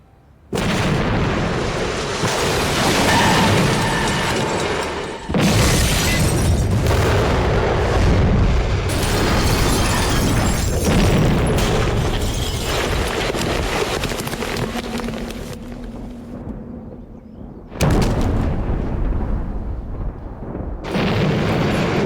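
Loud, continuous booming bomb blasts from a reconstructed Blitz air raid, with repeated heavy explosions and rumbling debris filling the whole span, a few sudden fresh blasts cutting in, and no voices.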